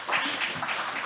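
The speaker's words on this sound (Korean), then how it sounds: "이쯤에서 박수를 좀 보내주시죠" Audience applause at an academic conference event, a dense, steady wash of many hands clapping throughout, moderately loud and close, with no speech over it.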